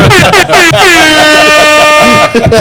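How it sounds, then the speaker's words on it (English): A loud, sustained air horn blast with a falling pitch, lasting about two seconds, followed by a brief burst of noise at the end. "The air horn now."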